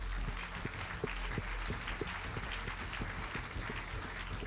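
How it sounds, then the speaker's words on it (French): Audience at the Pierres d'Or 2012 real estate awards applauding the five winners, a steady dense wash of clapping throughout with a few sharper claps standing out. "On les applaudit tous les 5."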